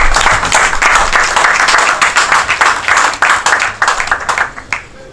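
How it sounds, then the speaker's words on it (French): An audience at a meeting of federations, NGOs and associations bursts into loud, dense applause that carries on steadily and thins out toward the end. "nous vous demandons d'applaudir pour cette considération"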